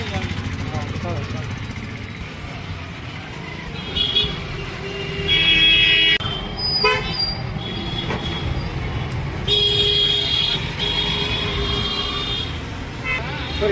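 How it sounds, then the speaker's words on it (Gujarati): Busy street traffic in Rajkot beside a roadside puri-shaak food stall, with engines rumbling and several car horns honking in bursts, loud and near, while people talk over it. "ટ્રાફિક ચાલુ જ હોય છે."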